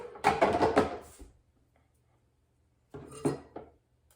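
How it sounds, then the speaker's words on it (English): Broccoli is chopped with a knife on a board in a home kitchen, two separate bursts of quick, close cutting knocks with a silent pause between them. "gonna chop up some broccoli"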